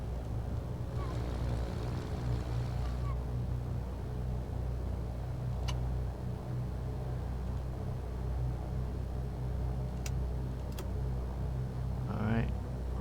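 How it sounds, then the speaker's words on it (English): Steady low engine drone of a Cessna 414's right engine running in a flight simulator, a continuous rumble with harmonic hum throughout, and brief voices over it. "Good right engine start."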